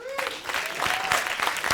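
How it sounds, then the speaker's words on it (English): Applause from an audience at the close of a music production session, a short burst of clapping over a faint tonal sound and some murmuring. "I think a big round of applause."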